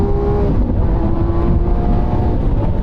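A Lamborghini Aventador V12 droning steadily under load, a dense, continuous engine roar heard from inside or near the car, with no clear pitch sweep of a gear change.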